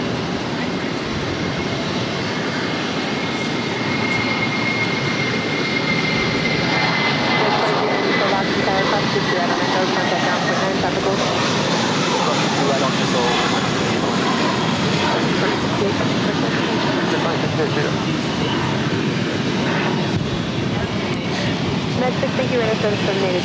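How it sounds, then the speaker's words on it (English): A Spirit Airlines Airbus A320 takes off from runway 22 right at Boston Logan, its jet engines producing a dense, sustained broadband roar at a moderate distance that holds steady throughout, with a voice talking over it. "We do have that Spirits flight now rolling down 22 right."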